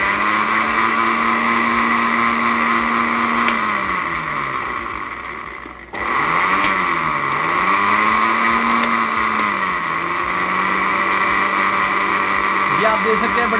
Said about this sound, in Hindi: हमारे जूसर ग्राइंडर मशीन को भी जो है चला दिया है